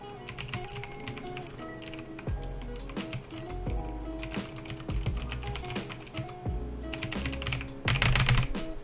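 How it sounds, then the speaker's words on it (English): Rapid, irregular clacking of computer keys being typed on nearby, picked up by a Blue Yeti X microphone, steady and continuous with a few heavier strokes. "I actually want to test and see if it can hear my keyboard."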